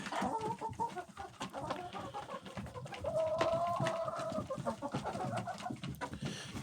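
Chickens from a flock of about thirty-nine laying hens, let out for a short wander in winter, cluck steadily close by, with several birds overlapping in a busy, continuous chorus and one longer drawn-out call in the middle.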